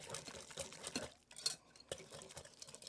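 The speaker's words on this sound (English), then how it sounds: "I'm going to switch to a whisk" Soaked bread crumbs and milk are whisked in a bowl for an old-style chocolate pudding, giving quick, uneven scraping and clinking strokes that pause briefly midway.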